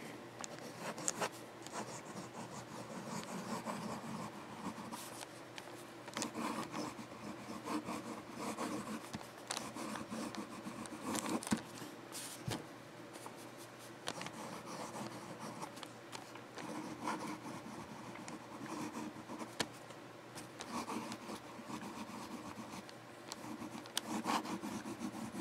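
Noodler's Triple Tail fountain pen nib scratching across Tomoe River paper, a faint, steady rubbing scrawl with small irregular strokes and ticks, close and continuous throughout with no talking.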